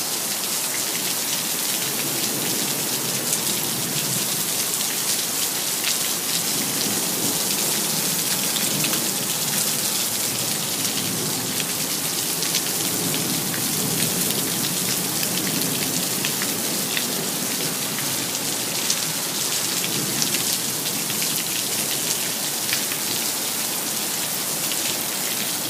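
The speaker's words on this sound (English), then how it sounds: "it's raining cats and dogs." Heavy rain pours down without letup after a night of flooding downpours, a dense, steady hiss of drops striking surfaces close by, with no voices over it.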